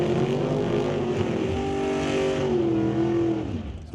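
A drag race car at a Doorslammers event coasts off the gas at speed, its loud engine drone holding steady before fading slightly near the end, with no voices.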